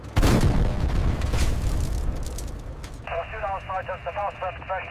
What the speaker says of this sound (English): Panther is hit. Direct hit from a Sherman.